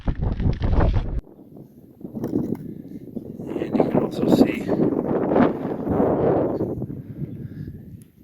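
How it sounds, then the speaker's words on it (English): Gusty wind rumbles against the microphone on the Mount Evans summit ridge, loud at first, then someone talks over continuing wind noise. "Pretty strong gusts of wind up here."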